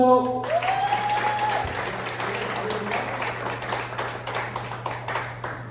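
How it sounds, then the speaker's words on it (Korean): Applause from an audience welcoming the editor-in-chief at a workers' gathering, a dense wash of clapping that swells after a voice finishes speaking over a steady low hum, then carries on evenly at moderate loudness. "김장호 편집국장님 큰 박수로 모시겠습니다"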